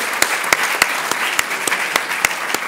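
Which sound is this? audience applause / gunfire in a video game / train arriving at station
audience applause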